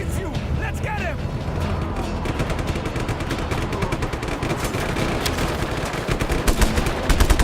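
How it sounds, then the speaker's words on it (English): In Just Cause 3, a cannon fires as rapid repeated bangs that crackle over a constant loud battle din. The shots grow heavier toward the end. "The cannon still works."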